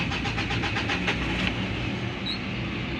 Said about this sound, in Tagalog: nagkakaroon na ng knocking pagka uminit na yung makina